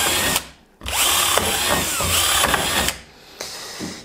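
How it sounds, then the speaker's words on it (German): A power drill with a metal bit bores through a spruce board in two loud, close bursts of whining, grinding noise, with a short pause between them and a quieter tail at the end. "Wir wollen jetzt hier ein Brett Fichte bohren und wir setzen das an, den Bohrer, und bohren mal durch"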